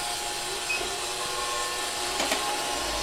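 A steady whirring fan hum from an INLIFE robot vacuum cleaner, with a broad hiss, runs throughout at moderate volume, with a faint click or two and no speech.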